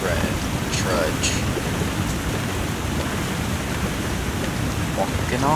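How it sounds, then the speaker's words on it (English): Steady rushing roar of an unseen waterfall in The Long Dark on a foggy railroad, a loud continuous broadband wash throughout with faint chirps over it. "So we're just going to hear the waterfall that we cannot see as we make a slow trudge."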